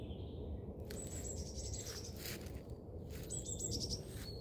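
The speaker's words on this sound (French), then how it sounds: "des oiseaux comme ça, j'avais jamais vu. Ils sont d'un bleu éclatant. Ils sont en train de se battre" Bright blue birds fighting in a forest give short high chirps and squeaky calls in quick bursts, over a dense rustling, crackling background.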